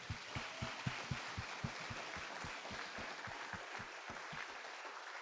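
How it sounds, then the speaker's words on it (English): Applause from the audience at a Honoka'a High School commencement ceremony for the graduating seniors: a dense, steady wash of clapping with a rhythmic low thumping running through it, fading slightly near the end. "I want you guys to give them a round of applause"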